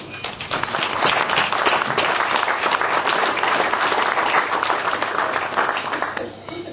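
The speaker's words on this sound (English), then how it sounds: "I'd like to give you a big pat on the back of round of applause." Dense applause from a dinner crowd at a pontoon gathering, steady and sustained for about six seconds before tapering off, with some voices mixed in.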